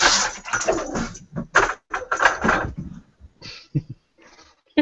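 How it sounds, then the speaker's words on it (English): A dog suddenly goes wild nearby, barking and whimpering in loud, uneven bursts that come fast at first, then thin out into softer, scattered whines and yelps. "Just had a dog go nuts all of a sudden."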